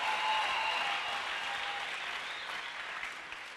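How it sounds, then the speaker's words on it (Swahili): A church congregation claps together in a sustained burst of applause, loud at first and slowly thinning out, with no distinct voices. "chapia Bwana makofi na vigelegele"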